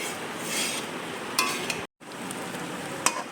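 Chow mein frying and being stirred in a pan, a steady sizzle with occasional scraping and clinks of a utensil, broken by one brief silent cut midway.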